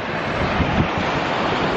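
Sea waves washing ashore at night in Sicily, a soft continuous surf wash with light wind noise, no voices.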